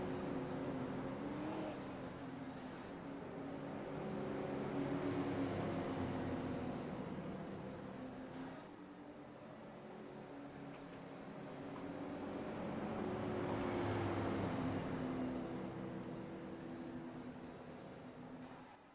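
Race cars idle and rumble around a dirt track under pace lights during a heat race, engines droning steadily and swelling twice as the pack passes nearby, with no talk.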